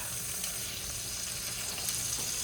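Steak sizzling and frying in a hot pan just after being flipped, a steady broadband hiss that holds at an even level throughout with no talking.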